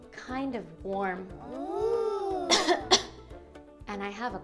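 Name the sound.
cough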